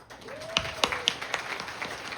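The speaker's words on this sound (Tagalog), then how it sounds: "palakpakan natin ang Alpha Care" Scattered, light applause from an audience at a political gathering of leaders, a few distinct claps over a thin crowd murmur, fairly faint and brief.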